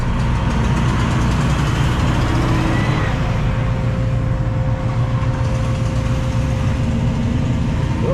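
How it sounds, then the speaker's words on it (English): A loaded truck hauling red Georgia clay rumbles with a steady, loud engine drone at close range that eases slightly as it moves off, with a voice faintly audible underneath. "Well, there goes the second truck for the day."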